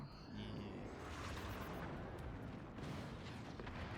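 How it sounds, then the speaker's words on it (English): In the video game Forts, cannon rounds collide with rockets in a dense, continuous rumble of booms and blasts, a thick barrage of overlapping explosions at steady loudness. "Those cannons colliding with the rockets."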